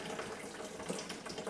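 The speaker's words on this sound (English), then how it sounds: "we'll pour it into our fermenting vessel through the sieve that we've got here" Hot beer wort for a steam ale clone pours through a sieve into a fermenting vessel, giving a steady broadband splashing rush that runs unbroken and fairly close throughout.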